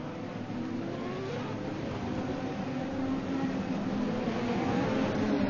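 Race cars circle a lap of the Long Beach street circuit in a racing video game, a steady broad engine drone with faint rising revs, mid-distance and continuous, no talking.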